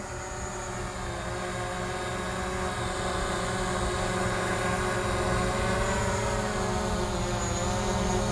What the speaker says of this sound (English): You can hear the drone right now as I bring it down to land it.